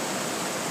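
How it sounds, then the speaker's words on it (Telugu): Niagara Falls roars as massive river flow pours over near the Cave of the Winds, a loud, unbroken broadband rush with no voices. "ఇదే వెళ్ళి ఇక్కడ నయాగరా ఫాల్స్ ఫామ్ అవుతున్నాయి."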